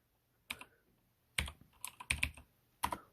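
Sparse keystrokes on a computer keyboard at a typing tutor, a handful of crisp close clicks in irregular bursts separated by quiet pauses.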